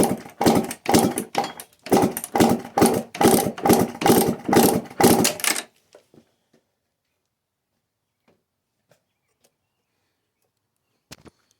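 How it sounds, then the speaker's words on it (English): The engine of a 1999 Kawasaki KX125 is turned over by kick for a compression check, giving a loud, rhythmic chuffing of about a dozen strokes over five seconds. Near silence follows, with only a few faint clicks. "we're going to check the compression again to make sure everything is working right"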